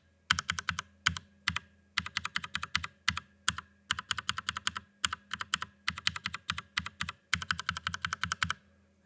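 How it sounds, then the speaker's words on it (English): Steady typing on a mechanical keyboard fitted with Teflon-lubed Cherry MX Brown switches, fast bursts of crisp clacks in close succession with brief pauses between runs, loud and close with no talking. "So let's check out the Teflon lubed versions."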